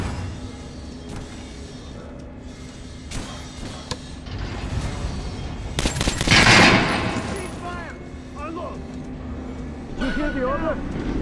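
Kalash rifle fire in Metro Last Light comes as sharp bursts of automatic gunshots, loudest in a heavy volley midway, mixed with clanks and game voices talking throughout.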